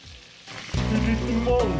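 Meatballs dropped into a pan of hot oil and butter, the sizzle jumping up sharply as they hit and then frying loudly and steadily, close by.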